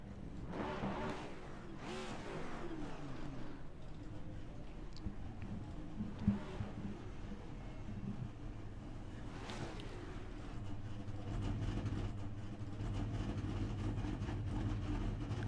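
Several NASCAR race car engines in a racing video game at the Charlotte Roval rumble and whine together in a continuous, layered drone, with passing revs rising and falling over a steady low roar.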